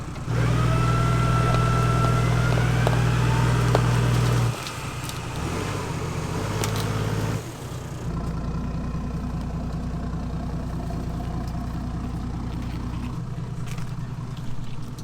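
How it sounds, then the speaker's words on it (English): A 4WD engine revs under throttle while reversing during a winch recovery on a Tasmanian off-road track, a loud steady drone for the whole stretch that shifts pitch and load partway through, with no talking. "As soon as you can feel the vehicle start to take up, just give it a bit of throttle."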